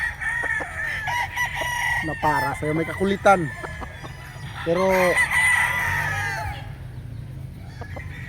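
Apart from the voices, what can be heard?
rooster crowing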